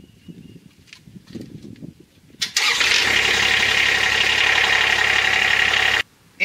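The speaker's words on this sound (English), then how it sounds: "We're gonna start the engine now, let the oil circulate through and fill the oil filter up." A Kubota RTV-X1140 utility vehicle's engine is started after an oil and filter change, cranking briefly before firing into a loud, steady idle close by that runs for several seconds and then cuts out.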